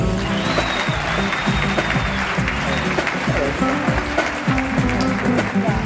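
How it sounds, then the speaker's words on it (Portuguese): Audience applause welcoming speakers at a talk on technical support strategy, a steady dense clapping from a crowd that lasts throughout. "com muitas palmas"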